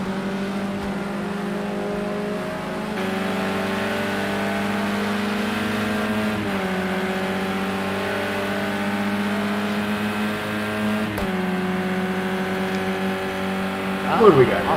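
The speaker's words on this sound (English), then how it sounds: "This is a BMW 4-cylinder." A BMW 2-liter 4-cylinder race car engine in a virtual Indianapolis racing game holds a steady droning tone, its pitch dipping and climbing between gear shifts, loud and continuous, with a rougher burst at the end.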